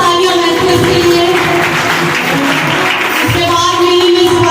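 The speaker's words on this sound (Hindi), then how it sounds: "जोरदार तालियां" Loud, continuous clapping from a church audience at a carol Sunday gathering fills the space evenly from start to finish, with faint voices beneath it.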